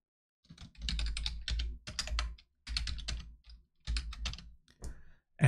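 Bursts of rapid computer keyboard typing entering a cd command in a terminal, loud and close, in several short clusters separated by brief pauses.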